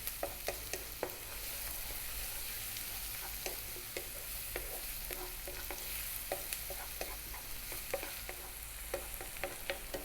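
Garlic stir-fried in a pan over fairly high heat for shrimp fried rice, a soft continuous sizzle punctuated by frequent quick scraping clicks of a utensil keeping it moving, close and fairly quiet.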